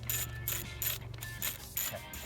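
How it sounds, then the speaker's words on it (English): A ratchet clicks in quick bursts while loosening bolts on an Alfa Romeo Giulia engine, close and fairly quiet, with a faint low hum underneath. "we're going to take these two bolts loose here"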